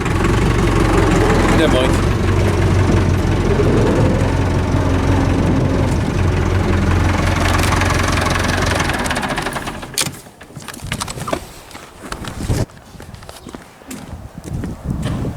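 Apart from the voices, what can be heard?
tractor engine idling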